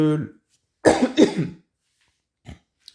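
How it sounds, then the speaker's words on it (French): A person coughs twice in quick succession up close, after a brief bit of voice, with a small throat sound trailing off afterward. "pardon, je tousse"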